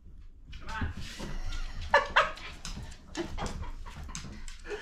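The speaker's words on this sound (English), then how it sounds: "We have the dorkiest dogs" A couple of sharp dog barks ring out midway, amid soft whining and a person talking nearby.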